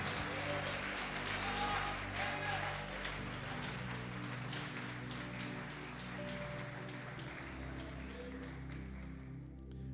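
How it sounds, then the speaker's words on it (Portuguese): A church congregation applauds during a sermon. Dense, rain-like clapping rolls on steadily at a faint, distant level, with voices and sustained tones underneath. "Pode aplaudir, glorificar a Deus."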